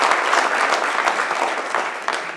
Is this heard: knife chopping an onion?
no